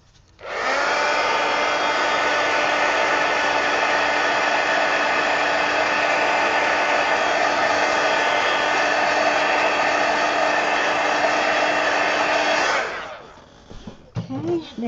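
Hair dryer blowing on wet ink on a coloring page, starting abruptly and running as a loud, steady whirring roar for about twelve seconds before switching off, followed by faint handling sounds.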